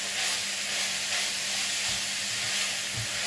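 Tomato paste is stirred into a sizzling pan while cooking a Turkish börek filling; a soft, steady hiss and sizzle runs throughout, with a few dull low knocks from the stirring, faint and close.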